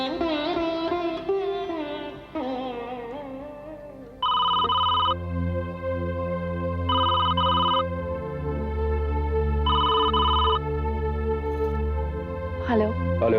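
A telephone rings in repeated electronic bursts about every three seconds, moderately loud over a steady background score, after a stretch of indoor dialogue.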